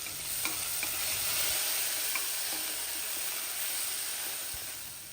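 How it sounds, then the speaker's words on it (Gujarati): Moong dal sautéing in hot oil for a bajra khichdi, a dense steady sizzle and hiss with a few faint utensil taps, close and uninterrupted. "હવે તરત જ આપણે મગની દાળને ઉમેરી દેવાની છે અને તેલમાં અડધી મિનિટ માટે સાતળી લઈશું."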